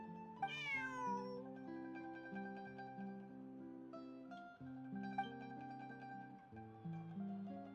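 A cat meows in the Genshin Impact video game, a brief rising call near the start, followed by soft game background music that carries on for several seconds without talk.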